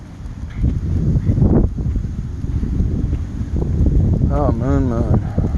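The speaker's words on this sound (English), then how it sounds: "It's windy." Steady wind rumbles and buffets outdoors throughout, with a person talking over it.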